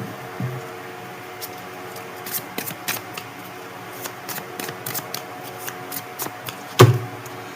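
Tarot cards are handled and shuffled close by, giving quiet papery riffles and soft flicks in irregular bursts, with one louder knock near the end over a faint steady background hum.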